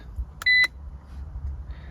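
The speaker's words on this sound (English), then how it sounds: "Lots of beeps." Two short electronic beeps in quick succession from an iCarSoft diagnostic scan tool on a Porsche 911, clear and high-pitched, over a quiet low background hum.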